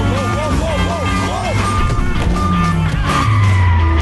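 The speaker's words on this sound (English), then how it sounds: "Every single sound effect in the film is on beat, in time. Light change, car crash, gear shift." Car chase effects from the film Baby Driver, with loud revving engines, squealing tires and a sharp crash cut close together in rhythmic, musical timing, under speech.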